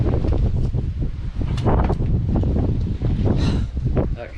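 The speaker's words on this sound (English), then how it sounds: "get out of this wind" Loud, constant wind buffeting the microphone in a heavy rumbling roar, with brief muffled sounds mixed in.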